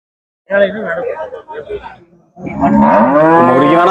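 Cattle moo in long, low, drawn-out bellows, close by and loud, at the Seenapuram cattle market in Tamil Nadu, with a murmur of people and livestock around them.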